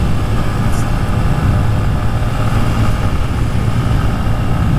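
A Honda Grom with a new sprocket drones steadily while being ridden at about 55 mph. The engine hum is loud and constant, with wind rumble over it and no break.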